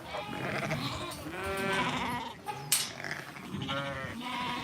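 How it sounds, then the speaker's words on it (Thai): Ewes and lambs bleating on a sheep farm as mothers are being separated from lambs, several overlapping bleats close by and fairly loud, one after another. "ตอนนี้ก็คือกำลังจะแยกแม่แกะกับลูกแกะอยู่นะคะทุกคน"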